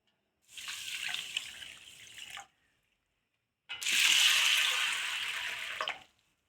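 Rice and sago being washed in water: two separate bursts of splashing, swishing liquid, each lasting about two seconds with a short quiet gap between, close and fairly loud, the second burst stronger than the first.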